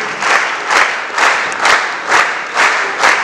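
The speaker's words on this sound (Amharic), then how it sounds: "እባካችሁ አጨብጭቡላቸው ለሁሉ።" An audience applauds at a birthday celebration for an Ethiopian artist, loud and sustained clapping that swells in regular waves, with cheers mixed in and no talk over it.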